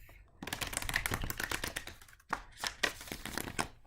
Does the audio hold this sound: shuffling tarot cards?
yes